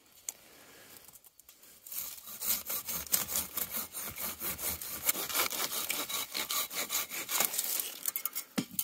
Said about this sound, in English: I'm gonna take a good length of this and then we'll figure it out. So let's get to sawing.